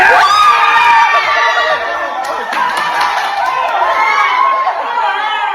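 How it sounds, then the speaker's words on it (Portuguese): A family crowd at home shouts, whoops and cheers loudly to celebrate a footballer's national team call-up, with excited overlapping voices and children's high-pitched screams close by throughout. "Foi uma gritaria danada"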